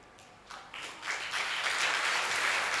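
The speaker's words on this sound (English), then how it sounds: "Applaud him." An audience at a talk breaks into applause that builds from scattered claps to a steady, dense ovation, loud and sustained to the end.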